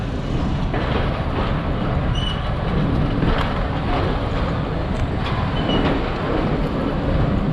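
Steady rumble and rattle of a heritage train running on the line from Nangal to Bhakra, heard from inside the carriage as continuous broadband noise with no talk.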